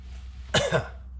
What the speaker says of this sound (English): made it to the end and then I coughed.